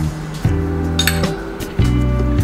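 Ice cubes clink and tumble into a glass for a mango spice cooler, two bursts of bright knocking clatter a second apart over a steady low hum, close and fairly loud.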